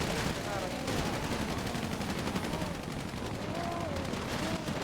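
Gunfire in a KVP vs DX pre-war video game match, rapid repeated shots crackling through a dense, busy mix, with faint voices underneath.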